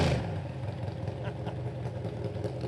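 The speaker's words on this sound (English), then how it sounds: "You got to love that sound here at the drag strip." A classic nostalgia dragster engine at a drag strip gives off a steady, loud, rough rumble, with a slight surge at the start and a continuous throbbing drone throughout.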